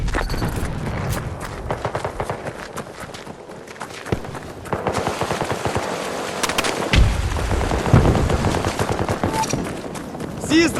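Battlefield 2042 Conquest match with dense, continuous gunfire and bursts of automatic weapons, loud and close, layered over footsteps and battle ambience, with sporadic radio-style voice callouts.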